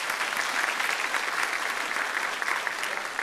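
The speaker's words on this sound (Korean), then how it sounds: "우리 박수로 한번 격려해 주셨으면 좋겠습니다" Steady applause from a church congregation during a Sunday worship service in Irvine, honoring the visiting city mayor, dense and even for the full stretch with no speech over it.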